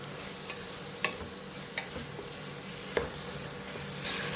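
Drumsticks and potatoes are sautéed in a pan for a South Indian kulambu, giving a soft, steady sizzle with a few sharp scrapes and clinks of a stirring spoon spaced through it.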